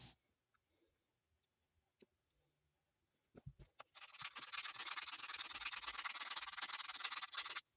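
After a few scattered clicks and taps, steady rhythmic rasping of hand sanding on wood starts up and continues, close and fairly loud, with no speech.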